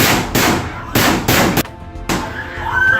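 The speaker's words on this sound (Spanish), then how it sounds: "El ensordecedor sonido de los disparos activó la alarma contra incendios del edificio" Loud gunshots ring out during a school shooting, several sharp, heavy bursts in quick succession with ringing decay between them, followed by a lingering, echoing tail.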